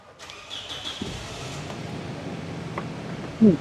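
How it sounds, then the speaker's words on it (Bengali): A Toyota Land Cruiser Prado SUV engine idles steadily with a low, even hum after a brief start, no revving, ending with a short louder knock. "গাড়ির ইঞ্জিনটা স্টার্টে আছে দেখেন একদম স্মুথ পজিশনে আছে"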